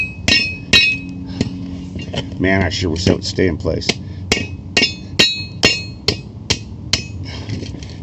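Repeated sharp masonry hammer strikes on a metal transformer housing, roughly a dozen metallic clanks at an uneven pace, with someone speaking briefly between blows.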